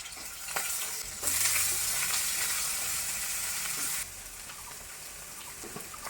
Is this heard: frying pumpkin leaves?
yes